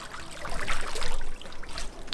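Pure spring water on Fraser Island trickling and dribbling close by, a soft continuous splashing that swells briefly in the middle of a short stretch.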